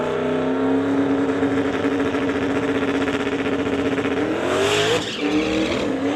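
A Ford Mustang drag car launches off the line at a drag strip, its boosted engine roaring loud and steady with a rising revving pitch, tires spinning into smoke, then a brief dip as the throttle comes off.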